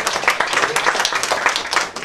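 Audience at a Romanian book launch clapping in a brisk, close burst of applause, loud and steady for about two seconds before tapering off.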